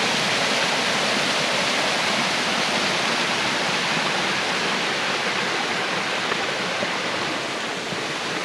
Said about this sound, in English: here's the top of that waterfall I was just telling you about